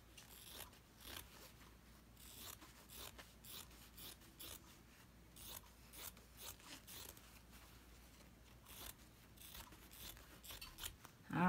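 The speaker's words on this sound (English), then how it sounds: "I'm going to trim around the edge of this so I can put my other piece next to it" Scissors trimming excess fabric around the edge of a bee pincushion, a long series of quiet, close snips and rustles in an uneven rhythm, no talking.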